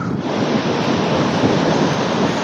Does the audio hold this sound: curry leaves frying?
no